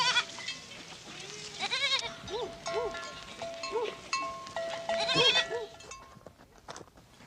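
A Tarahumara herd of goats, kept alongside sheep and dogs near cornfields, bleats repeatedly from several animals at once, overlapping wavering cries at moderate distance over a soft outdoor background.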